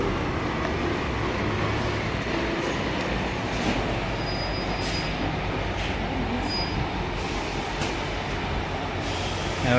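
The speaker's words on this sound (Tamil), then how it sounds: "டூ மினிட்ஸில் ட்ரெயின் வரும்," Steady rumbling train noise with clattering wheels on rails and faint high squeals, continuous and fairly loud throughout, with no talking.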